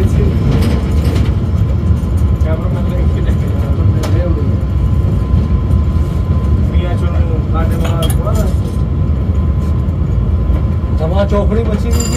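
The Musa Pak railcar AGE-30, heard from the cab between Multan and Lahore, runs with a loud, steady rumble, engine drone and mechanical rattles. Muffled voices can be heard under the noise.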